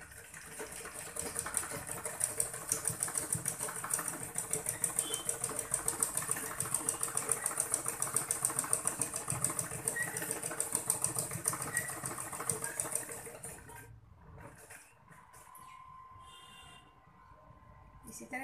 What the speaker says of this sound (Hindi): दोनों पल्लों को हम ऐसे रख दिए हैं और हम इसकी इसी तरह सिलाई करेंगे